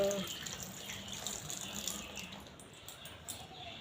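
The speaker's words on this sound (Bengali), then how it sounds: "এই যে কলে জল পড়তেছে" Water pours from a household tap during morning chores, a faint, steady splashing stream with a voice talking over it.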